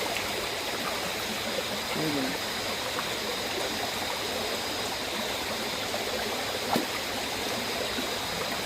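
A Malenadu river stream, where crab traps are set, rushes in a steady, close, even hiss of flowing water that continues without a break for the whole stretch.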